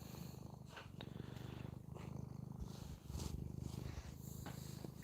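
A cat purring steadily up close, a low rhythmic rumble rising and falling with each breath, soft and continuous with a brief shift partway through.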